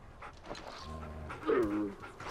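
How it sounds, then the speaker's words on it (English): A dog in the video game Far Cry Primal pants softly and gives a short, high whimper, quiet and close, with no talking. "That's a special animal. Probably a special dog."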